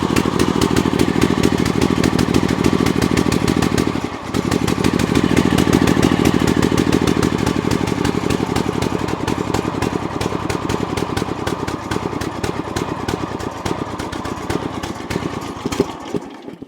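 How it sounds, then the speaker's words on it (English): A Hustler Sport 42 zero-turn mower engine runs rough with the choke on, a loud, close, continuous rapid chugging with a brief dip early on, struggling but staying lit throughout. "it's rolling coal because the choke's on"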